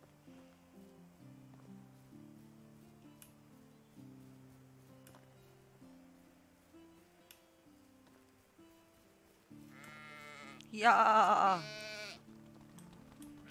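Lambs bleating in the farming game Medieval Dynasty: a burst of loud, close bleats near the end over a soft, steady game music background, with a single brief spoken word from a man.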